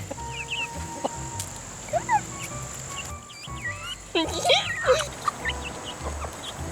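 Backyard chickens cluck and squawk nearby in scattered bursts, rising in a small flurry toward the end over a low background hum, with a person speaking in between.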